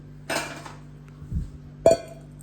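Metal kitchen vessels clatter and clink in a few brief knocks as one is picked up, close by, with quiet pauses between them.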